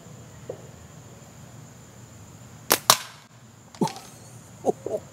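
Sharp slingshot shots fired from an ICARUS budget slingshot frame at an outdoor range: two quick cracks close together, then two more spaced snaps, each loud and short against a quiet background with no talking.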